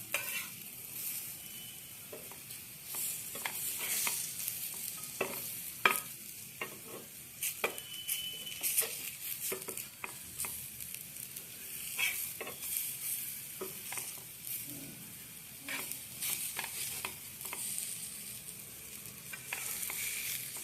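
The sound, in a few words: cabbage fritters (bandhakobi bara) frying in oil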